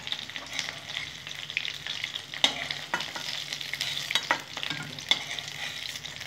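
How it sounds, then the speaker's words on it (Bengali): Shrimp fritters (chingri bora) fry in hot oil, giving a steady close sizzle with small crackling pops and the occasional scrape of stirring, no talking. "এইভাবে অবশ্যই একবার তোমরা চিংড়ি মাছের পকোড়া ভেজে খাবে"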